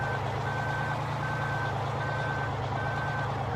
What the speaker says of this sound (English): push that truck out of the way